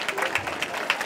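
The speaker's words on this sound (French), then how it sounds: "On peut déjà l'applaudir bien fort." An audience claps at a school equipment handover ceremony in a short, fairly loud burst of mixed-tempo hand claps, with some crowd noise and voices mixed in.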